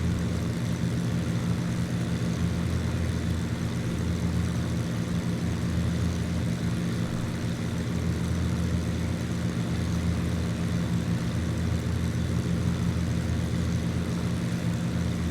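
A chartered propeller plane flies from North Island, San Diego, to Palm Springs. Its engine drones as a loud, steady, constant roar heard from inside the cabin, with no break.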